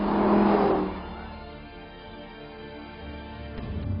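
A 2017 Audi R8 V10 Plus with 610 horsepower roars as it accelerates, a loud blare at first that fades into a steady, rising drone and swells again near the end.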